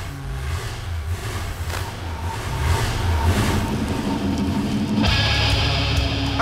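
A 1968 Plymouth GTX convertible with a four-speed engine idles with a deep rumble, then revs and holds at a higher, louder pitch, heard up close with no talking.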